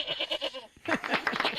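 A small goat bleats in a series of short, wavering cries, fairly close and clear, broken by a brief pause before several more quick bleats.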